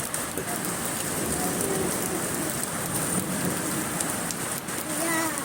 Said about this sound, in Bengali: মুসলধারে বৃষ্টি